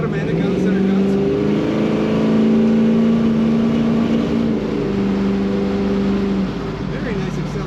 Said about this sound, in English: Very nice acceleration in this Camaro.